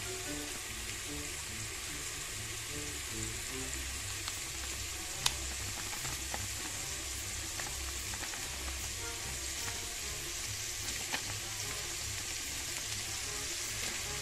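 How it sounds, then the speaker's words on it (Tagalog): Chicken seasoned with black pepper and garlic powder is stirred in a pot for chicken tinola, giving a steady, close hiss of sizzling with faint scraping throughout and one or two brief clinks. "haluin lang natin. I-mix lang natin guys para mag-balance po yung lasa sa ating chicken."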